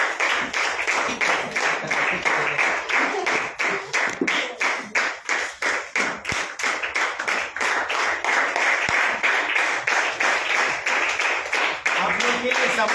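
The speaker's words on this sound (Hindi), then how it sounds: "आपका स्वागत करते हैं एक जोरदार ताली के साथ" Loud, sustained applause from a church audience at a Good Friday service, dense clapping filling the whole stretch with steady rhythmic hand claps and no pause.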